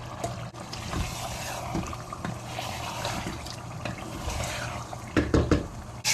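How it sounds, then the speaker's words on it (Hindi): Water being added to a chicken and chickpea curry in a home kitchen makes a continuous pouring trickle, fairly close, followed by a few clatters near the end. "इसमें मैंने पानी थोड़ा सा ऐड किया।"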